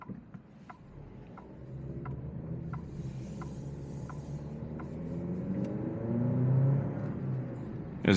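A 2024 Alfa Romeo Stelvio Ti SUV in dynamic mode holds its engine revs, giving a steady muffled cabin drone that swells gradually toward the end, with faint clicks and no talking.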